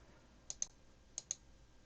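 Two pairs of light, crisp computer keyboard key clicks, each pair a quick double tap, close and faint against a quiet background with no talking.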